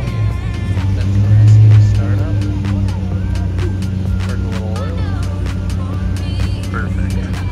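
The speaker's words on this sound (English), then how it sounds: "Cayenne Safari rolling out." Porsche Cayenne Safari rally car rolls out from a rally start line with a close engine drone that swells briefly then settles, while people talk over the motor.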